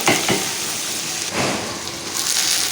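Chopped tomatoes sauté in a frying pan, giving a steady, close sizzle with faint stirring scrapes throughout and no talking.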